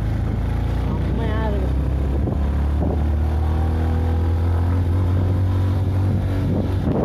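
A vehicle engine pulls uphill in second gear, holding a loud, close droning note that shifts pitch partway through as it works harder, with people talking over the engine.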